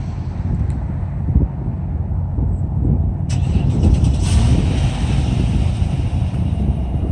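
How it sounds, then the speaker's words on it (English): A 2015 Infiniti QX80 engine starts by remote start outdoors, turning over and settling into a loud, steady low rumble under gusty wind. "I want to start the vehicle because it absolutely sounds amazing"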